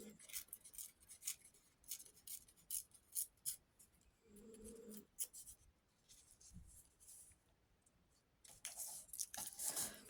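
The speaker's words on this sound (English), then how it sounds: "I'm going to just trim a little bit extra off." Scissors trimming paper at a craft table, quiet close snips and rustling scrapes in short irregular bursts, with a brief low hum in the middle.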